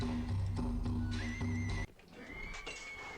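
Horses neigh in the video game King of Dragon Pass during a raid by horse creatures: one long, shrill whinny, then a second fainter one after a brief drop in the background clatter.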